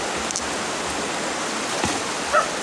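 Dense, steady rush of a flowing water current while spearfishing, an even broadband wash with no voices, a couple of faint clicks and a soft knock near the end.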